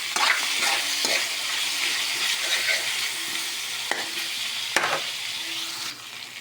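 Chicken legs sizzle and fry in a pan for a homemade sotanghon guisado, with loud, broadband crackling throughout and a few scraping stirs of a utensil, close and without talk.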